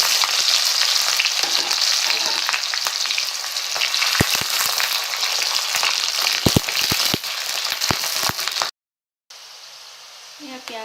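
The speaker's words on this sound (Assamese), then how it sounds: "এয়া তেল গৰম হৈছে আৰু তেল গৰম হোৱাত পিঁয়াজখিনি দি দিলোঁ।" Onions sizzle and crackle vigorously in hot mustard oil in a wok, with dense frying noise and occasional sharp stirring clicks. The sizzle cuts out briefly near the end, then continues more faintly.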